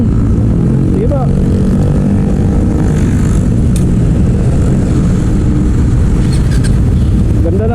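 A motorcycle engine runs loud and close, with a steady droning roar and brief rises in pitch, and voices are faintly present under it.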